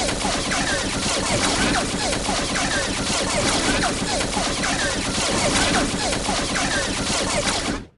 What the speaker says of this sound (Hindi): एक साथ ही फायरिंग शुरू करते हैं।